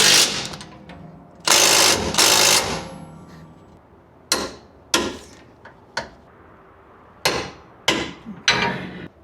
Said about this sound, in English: Now we're gonna go ahead and torque it down.